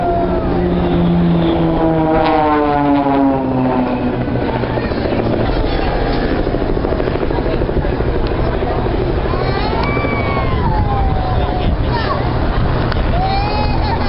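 Aerobatic display aircraft of the Blades team fly a tight box formation bend at the Farnborough Air Show, a loud, continuous propeller-engine drone with shifting pitch as they sweep round, with a voice talking over it.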